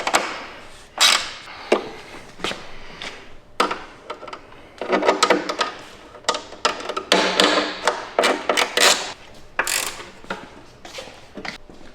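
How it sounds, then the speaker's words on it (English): A 7/16 wrench tightening a nut while installing a brake rotor on a Ski-Doo Gen 5 snowmobile, a series of sharp metallic clicks and ratcheting taps in irregular bursts, close and fairly loud. "Now 7/16 on the nut, and we'll tighten her down."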